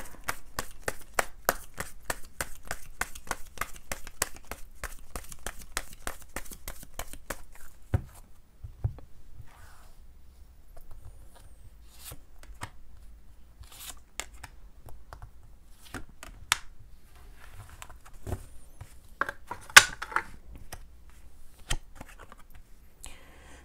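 Tarot cards shuffled rapidly in a quick, even riffle of sharp close clicks, then slowed to sparse single taps and slides as cards are drawn and laid down in a quiet room.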